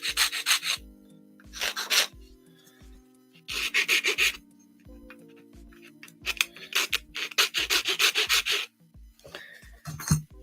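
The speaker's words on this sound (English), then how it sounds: "Quick sanding." Tight wooden pegs on a hobby cabin model get a quick hand sanding: several short bursts of rasping, scratchy rubbing strokes, close and fairly loud, separated by brief pauses, with no talk.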